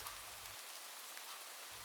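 Steady rain hisses in a dense, even wash of noise, soft and distant, with no voices.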